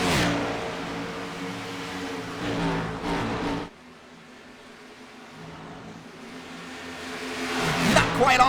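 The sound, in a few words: stock cars racing in a racing video game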